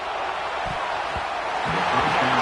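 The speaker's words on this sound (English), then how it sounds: "This crowd bringing the energy and noise early." Crowd noise fills the stadium at a BYU vs Notre Dame college football game, a dense steady roar with a few faint shouts and no clear talking.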